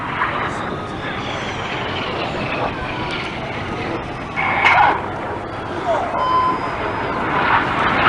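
A display jet performs a vertical break and six-G turns at the 2014 Cleethorpes seaside airshow, a sustained distant jet roar with a brief swelling whoosh midway, heard under faint background sounds.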